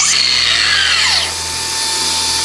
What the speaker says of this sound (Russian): Пылесос работает.